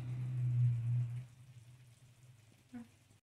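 Slices of cured ham sizzling in a pan give a soft, steady frying hiss, louder at first and then quieter, with a brief clink near the end.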